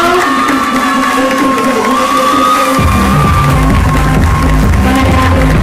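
A crowd applauds and cheers loudly at a crowning ceremony for the cultural ambassadors of Villa Ángela, with whoops and shouts swelling into a dense, continuous roar.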